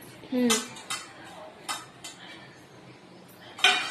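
Raw chicken for pakodi being mixed with chili powder, salt, ginger-garlic paste, turmeric and garam masala in a bowl, with a few close clinks and scrapes against the dish between quiet stretches.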